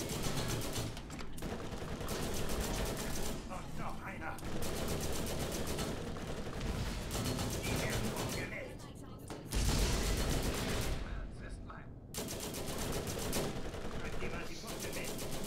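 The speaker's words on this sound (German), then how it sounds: "Spiel mit meinem Geschütz." Turret gunfire in the Borderlands video game rattles in long, rapid, continuous bursts with short pauses between them, loud and dense, while a voice talks intermittently underneath.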